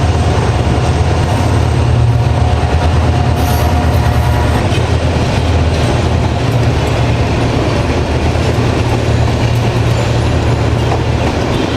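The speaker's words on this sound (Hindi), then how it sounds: "आप देखिए रेलवे पटरियों के ऊपर दौड़ती हुई बांग्लादेशी ट्रेन आ चुकी है।" A Bangladeshi train runs along railway tracks in Dhaka, loud and close, with steady rumbling and rattling of the wagons and clacking wheels continuing throughout.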